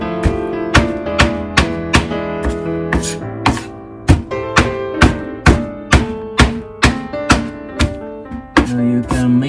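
A knife chops raw horse mackerel on a cutting board, a steady series of about twenty sharp, close thunks in an even rhythm, each ringing briefly.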